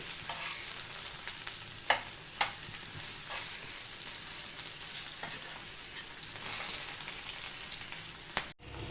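Ivy gourd fries with garlic and curry leaves in a pan, keeping up a constant bright sizzle. A spatula tosses and turns it, with periodic taps and scrapes, and a sharp knock comes near the end. No one speaks.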